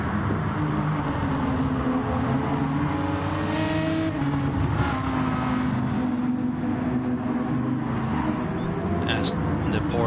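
Porsche and Aston Martin race cars roar through a racing video game, steady engine drone with shifting pitch and revving harmonics throughout, engines continuous under a commentator's voice.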